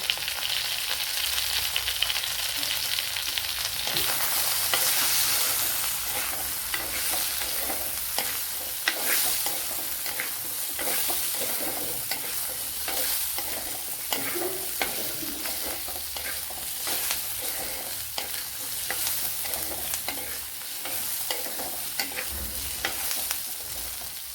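Fennel seeds and cashew nuts roast in a pan for a Kerala-style oyster mushroom curry, giving a steady, close sizzle with soft scraping and stirring throughout and no voices.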